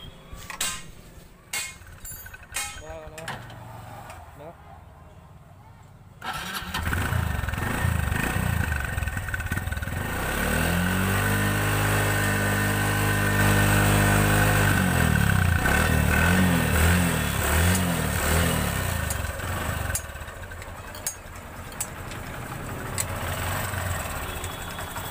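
A Hero Passion X Pro motorcycle engine with its outer parts removed and smoking heavily idles after a few clicks, then revs up for several seconds before settling back to a rough, steady idle nearby.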